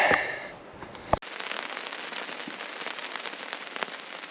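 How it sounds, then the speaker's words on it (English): Rain beginning to fall on a tarp at a wilderness campsite during a Canadian canoe trip, a steady soft patter of drops close by with a few sharper taps, after a brief rustle at the start. "Got the tarp up just in time as it was starting to rain"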